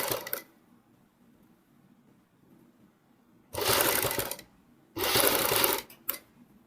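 A sewing machine runs in two short bursts of fast, buzzing stitching as black piping is sewn onto a kurti neckline, close and fairly loud, with quiet pauses of fabric handling before and between them.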